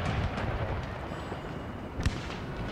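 Opening musket volleys of a battle in Empire: Total War, a series of faint, distant cracking shots and dull booms scattered over a rumbling battlefield bed, with one sharper report standing out near the end.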